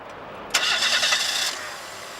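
A 1.3-litre single overhead cam car engine with sequential fuel injection, from a 1994 motoring program, cranks and catches with a brief burst of starter and revving, then settles into a quieter idle.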